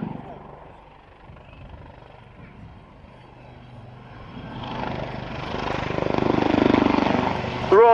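A Westland Lynx helicopter flies past at an airshow, its engine and rotor noise swelling louder toward the end as it approaches, a broad whooshing roar.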